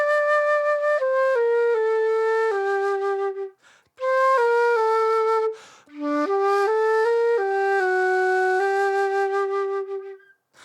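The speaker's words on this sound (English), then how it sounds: "So we have Ciri's theme in this demo, which goes like this." Ciri's theme from The Witcher 4 demo music, recreated as a clear, pure whistle-like synth melody of stepped sustained notes in two phrases with a short pause between, played alone.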